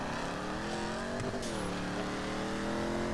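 Modified car engine in Grand Theft Auto 5 holding a steady drone with rising and falling pitch, one brief swell near the middle, continuous and fairly close throughout with no talk.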